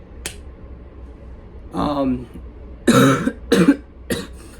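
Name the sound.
cough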